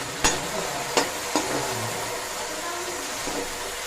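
Green chilies cooking in a pan with a steady low sizzle, broken by a few sharp clinks or taps of a utensil early on, close and moderately loud with no talk.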